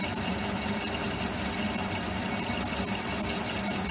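An Elliot 14 S machine cuts steadily at a slow 310 RPM with no chatter, giving a continuous, even mechanical hum and whir close by, unbroken for the whole stretch, with no voices.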